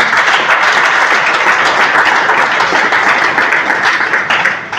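A church congregation at a worship service bursts into loud, sustained applause, a dense wash of many hands clapping close and steady for several seconds before easing slightly at the end.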